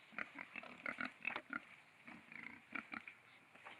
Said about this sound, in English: The sounds that you hear the pigs making, the oinking or grunting or whatever it is